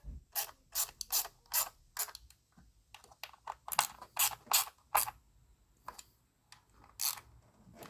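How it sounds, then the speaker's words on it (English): A hand ratchet clicks in quick bursts of pawl ticks while snugging spark plugs on a Chrysler 300M during a tune-up, close and fairly quiet with short pauses between strokes. "Now I'll go behind with a ratchet and just check everything."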